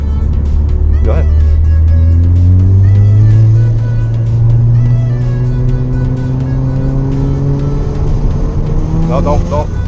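A Mazda RX7 FD with a rotary engine drives hard, its loud engine note climbing and falling through the gears close by, while people talk over it.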